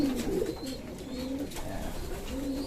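A pigeon coos softly and repeatedly, low rolling calls close by over a quiet background, with no talking.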